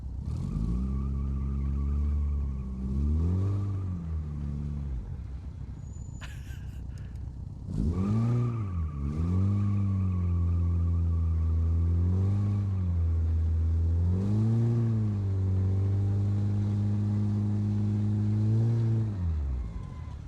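A low rider burnout car in BeamNG.Drive, built as a Roadkill project, revs its engine hard. Repeated loud rising and falling surges build up and fall back, with a brief gap before the revving resumes.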